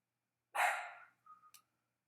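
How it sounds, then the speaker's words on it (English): Dog barking indoors during a live craft session: one loud, fairly near bark trailing off, followed by a couple of shorter, quieter yips, with no talking. "my dog is now freaking out"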